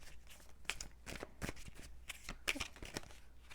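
Tarot cards shuffled by hand for a reading, a run of soft, quick riffling bursts at close range, with no talk.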